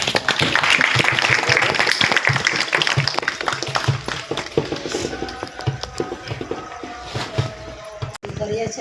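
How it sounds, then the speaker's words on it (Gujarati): An audience at a church Lent gathering applauds to welcome guests, a dense burst of clapping that thins into scattered claps over several seconds, with voices talking underneath. "આપણે તાળી પાડીને આવકાર કરીએ."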